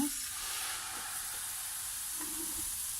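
Crêpe mille trous batter cooking in a hot pan with honey and butter nearby, giving a steady, faint broadband sizzle with a couple of soft low bubbling pops, quiet and continuous throughout.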